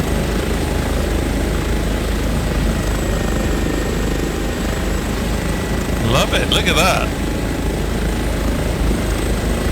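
An Airbus HPG H145 helicopter in Microsoft Flight Simulator drones with a loud, constant turbine whine and rotor hum throughout, while someone briefly speaks over it.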